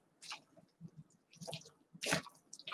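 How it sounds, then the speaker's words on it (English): Thick buttermilk cornbread dressing being stirred with chicken broth, giving soft wet squishing and squelching strokes at an irregular pace, moderately close and fairly quiet. "Pour it in and start to stir it until it starts to loosen up."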